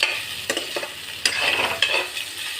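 Pork frying in its own rendered fat, stirred with a few sharp scraping strokes over a bright, steady sizzle, close up with no speech.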